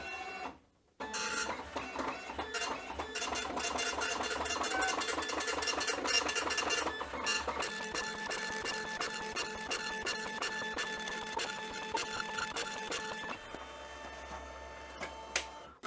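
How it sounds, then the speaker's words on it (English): An Olivetti DM 309L wide 9-pin dot matrix printer runs its self-test after a short startup pause, buzzing loudly and steadily as the print head rattles through continuous lines, then quieting near the end. "if I actually hold this in whilst I'm turning on the printer on the sides, so holding in, it goes into a test mode."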